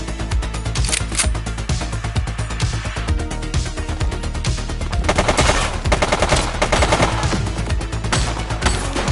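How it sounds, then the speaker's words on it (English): Rapid sustained gunfire in a police action game, loud dense bursts of automatic shots and single cracks layered over each other without pause, filling the whole stretch with no speech. "Shots fired!"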